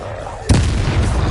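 A Confringo spell explodes in Hogwarts Legacy, one loud booming burst that strikes suddenly and rumbles heavily for about a second under busy game noise.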